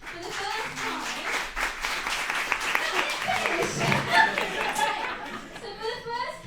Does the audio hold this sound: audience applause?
yes